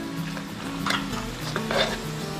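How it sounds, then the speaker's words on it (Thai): Panang pork curry is stirred in a pan with salt, seasoning powder, sugar and fish sauce, producing a brief run of close scraping strokes and soft sizzling with a couple of louder spoon swipes. "แล้วก็คนให้เข้ากันนะครับ ให้น้ำตาลแตกให้เครื่องปรุง"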